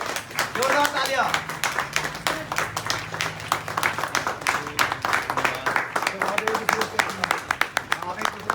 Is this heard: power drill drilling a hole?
no